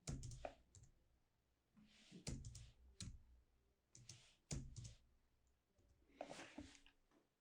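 Bursts of clicky keystrokes on a computer keyboard come in short clusters separated by pauses, close and fairly quiet, with no talking.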